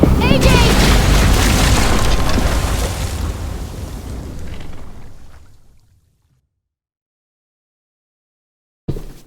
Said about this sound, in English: Shit, the bomb!